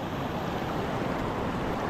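Cold mountain water rushes under strong pressure beside a monsoon road on the way to Kalimpong. It makes a steady, loud broadband roar that stays constant and close, with no voices.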